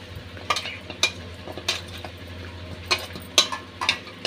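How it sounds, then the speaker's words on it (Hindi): Spices and cumin powder being stirred into raw mutton chops with a spoon, giving a few sharp scraping clinks against the bowl amid soft wet mixing sounds. "हम मिक्स कर देते हैं, हम फ्राई करने के लिए मिक्स कर लेते हैं।"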